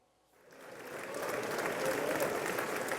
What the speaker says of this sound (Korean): 미국 상하원 의원들의 기립박수 속에 의회 연단에 오른 윤석열 대통령.